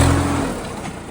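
A tractor engine rumbles nearby on farmland, loud and low at first, then fading a little as its steady drone carries through the short stretch.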